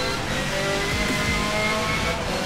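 A Ford Focus RS engine roars steadily under acceleration in the racing game Forza 7, a loud, continuous high rev with a constant tone and no pauses.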